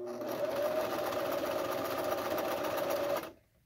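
A sewing machine runs in one steady, fast burst for about three seconds while stitching the hem of a cloth face mask, then stops abruptly into near silence.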